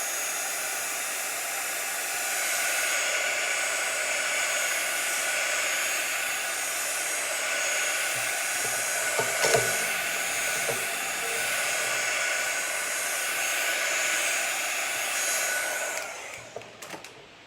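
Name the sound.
hair dryer or heat tool drying ink on card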